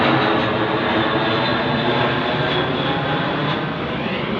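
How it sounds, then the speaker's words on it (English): Patrolling planes flying overhead produce a loud, steady broadband engine roar that fills the whole stretch without breaks, holding close and constant with only a slight easing near the end; no voices are heard. "I'm just showing patrolling planes over my head"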